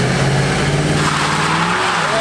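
A car doing a burnout roars at high revs while its tires squeal in a loud sustained whine that rises in pitch, with the engine note close and continuous.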